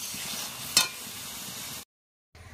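Curry cooked down with dried red chilli paste sizzles steadily in a pan, with a sharp scrape or stir near the start. The sound then cuts out briefly before the sizzling resumes.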